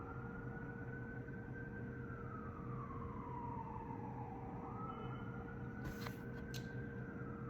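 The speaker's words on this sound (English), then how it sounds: "even when the sirens are still going off, you don't have the same response like you used to." A distant siren wails in a slow rising and falling sweep, faint under a steady hum, with a couple of brief clicks near the end.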